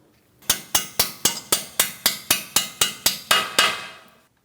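Thirteen evenly spaced hammer strikes ring out, loud and close, as a bolt is tapped through the steering knuckle past the lower ball joint stud on a 2007-2014 Ford Edge, with the final two blows heavier.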